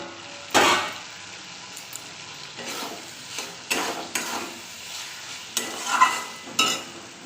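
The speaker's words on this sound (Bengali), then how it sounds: "আমি ভেজে রাখা ঢ্যাঁড়সগুলো দিয়ে আবার হালকা কষিয়ে নিয়েছি।" Fried okra being stirred in a spice paste in a pan: intermittent scraping and clanking spatula strokes over a low, quiet sizzle.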